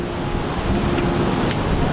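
Constant roaring sea wind buffets the microphone over a broad wash of surf, loud and unbroken throughout, with no voices.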